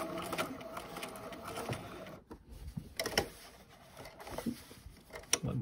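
A sewing machine stitches a fabric face mask without backstitching, its motor giving a close, steady mechanical whir in short runs, broken by brief pauses and a few sharp clicks.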